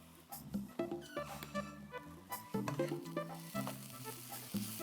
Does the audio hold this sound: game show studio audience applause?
no